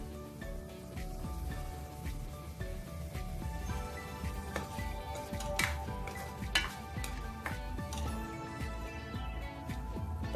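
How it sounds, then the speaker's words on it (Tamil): Chopped tomatoes and curry leaves sauté in a pan for a Chettinad chicken gravy, a continuous soft sizzle with frequent scraping and stirring clinks, close and fairly quiet, with no talk. "தக்காளி நல்லா வதங்கி வரட்டுங்க."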